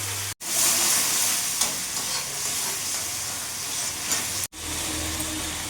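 Spiced masala for a small-fish kasundi curry fries steadily in a pan with Kashmiri chilli powder, a splash of water and slit green chillies, a continuous close sizzle and hiss with stirring scrapes, broken by two brief cuts.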